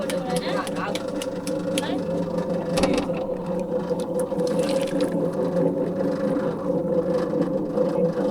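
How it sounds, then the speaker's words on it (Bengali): A spinning potter's wheel shapes clay pottery at a potter's workshop in Bauphal, Patuakhali, giving a steady mechanical hum with faint rubbing as people talk over it. "তারা আসলে চরকি ঘুরিয়ে মোটাই চরকি ঘুরিয়ে তারা আসলে এগুলো এখন বানাচ্ছে"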